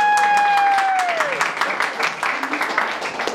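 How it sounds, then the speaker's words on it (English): A game show studio audience breaks into applause, a crackle of clapping that swells and continues steadily, with a falling electronic tone fading out at the start. "Everybody give her a round of applause."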